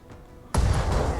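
An explosion in the mech combat video game Battletech, a sudden loud blast that erupts after a brief quiet moment and rumbles on heavily with deep low-end energy.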